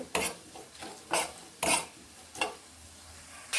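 Fried spices are ground into powder in a few separated, rasping grinding strokes, each a short burst of gritty scraping followed by a pause, close and moderately quiet, with no speech.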